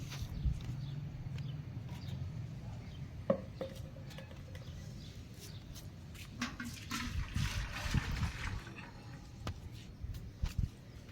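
Water splashes and trickles into a container in quiet, uneven bursts, with faint clatter and handling noises around it, as a litre of water is mixed into liquid waterproofing for a terrace slab.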